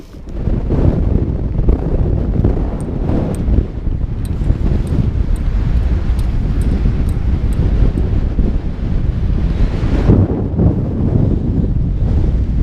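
Loud, continuous wind buffeting the microphone while riding a Desiknio single speed urban electric bicycle outdoors in cold weather, a dense roar with faint clicking over it and no speech.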